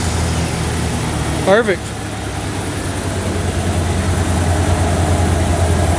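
A 1993 Ford F350 farm truck engine turns over briefly and settles into a steady, loud low idle that continues to the end, with a short spoken word from someone nearby.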